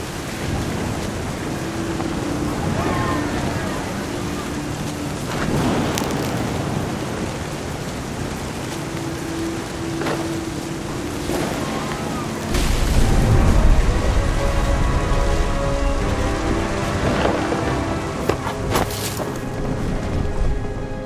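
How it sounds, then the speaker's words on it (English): Thunderstorm in the What Remains of Edith Finch video game: steady heavy rain hiss with low rumbling thunder rolling through, swelling louder in the second half, no talking. "The thunder sounded much too close and full of angry power."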